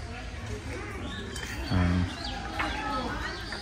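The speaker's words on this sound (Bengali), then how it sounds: "চারিদিকে পাখি ডাকছে" Birds calling around a temple courtyard with pigeons cooing beside a pond, soft chirps and a brief low coo over ambient murmur of people.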